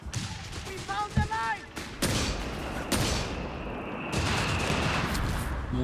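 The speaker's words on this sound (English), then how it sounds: "More mortar fire there." Mortar fire and gunfire bursts in the real-time strategy game Company of Heroes 3 during a competitive match, several sharp booms and rattling volleys mixed with in-game voices and a commentator talking.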